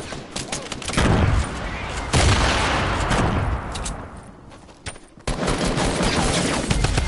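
Bursts of video game gunfire crackle loudly in quick succession, with a short lull near the end before the shots resume, while players talk over the action.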